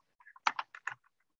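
Short burst of typing on a computer keyboard, about half a dozen close, crisp key presses in an uneven rhythm with no talking.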